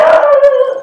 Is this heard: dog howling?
yes